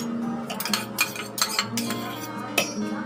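A utensil stirs moong dal batter in a bowl, giving a series of close, irregular metallic clinks and scrapes over a low background hum, with no talking.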